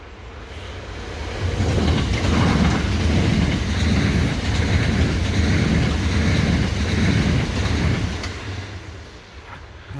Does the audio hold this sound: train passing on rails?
yes